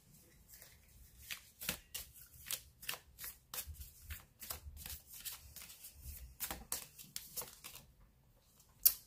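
Tarot cards shuffled by hand for a reading, quick papery riffles and slaps in uneven bursts, close and soft, with a sharper tap near the end.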